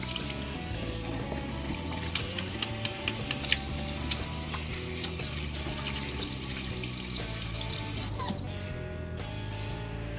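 Tap water runs steadily into a sink while oily hands are washed after making homemade pizza, a continuous wash of water with small knocks and clicks, no talking, until the flow stops near the end.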